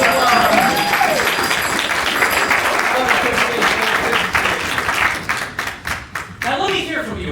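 An improv class showcase audience gives a loud round of applause with cheering voices mixed in, strong at first and then tapering into scattered claps.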